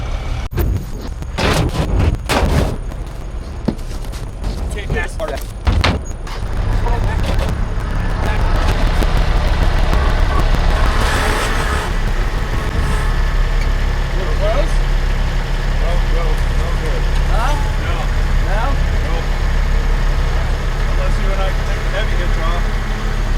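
A heavy tractor engine rumbles steadily at idle after some early knocks and clanks, a low continuous drone close by.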